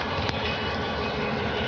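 A CN O scale model train rolls along an outdoor garden layout, giving a steady, loud rumbling run with continuous rail noise and a faint click near the start, no voices.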